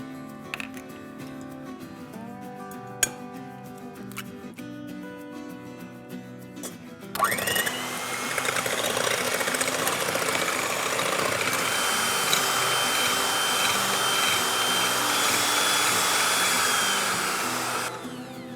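An electric mixer on high speed beats two eggs for muffin batter, starting partway through and then running as a loud, steady motor whine until near the end.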